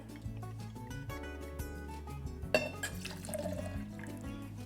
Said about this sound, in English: we're going to just do 1/2 ounce of the sherry